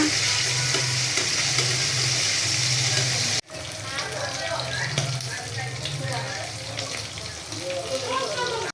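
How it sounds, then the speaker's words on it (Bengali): Oil hisses and crackles as fish coated in turmeric and salt fries in a kadai, a steady sizzle with a brief cut partway through, and faint sounds of activity nearby. "মাছ ভাজা"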